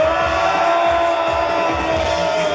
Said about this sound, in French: mesdames et messieurs, applaudissez très fort Christophe.